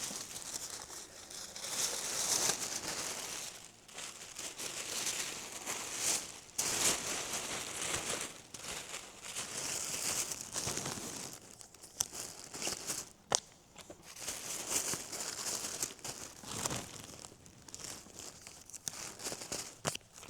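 Tissue paper crinkles and rustles up close while orders are packed, a soft continuous crackling in waves with brief sharper crumples, fairly quiet and with no talk.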